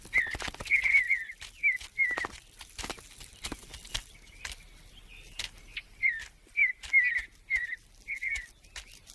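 Birds back in the high country in spring, near a river with melting ice, give bright whistled chirps in short repeated bursts, interspersed with sharp clicks and patter, close and clear with no talking.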